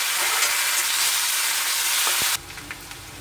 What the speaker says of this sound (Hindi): प्याज और हरी मिर्च ऐड कर दें। इसे 1 मिनट तक फ्राई करेंगे।